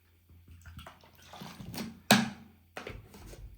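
Chilled water from the fridge pours into a drink bottle with a soft, close gurgling trickle that swells and ends with a sharp splash, followed by a brief faint knock, with no voices.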